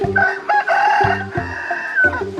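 A rooster crows loudly and close in a rural Isan village in northeast Thailand, two full cock-a-doodle-doo calls in quick succession, with no talk over them.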